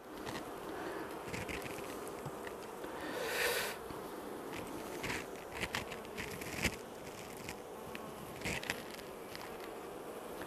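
Honey bees swarm around beehives opened in mid-November, making a dense, continuous buzz with close bees droning past now and then.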